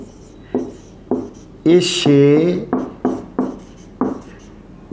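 A teacher writes on a board in short, separate bursts of scraping strokes, with someone speaking Hindi in between and over the writing.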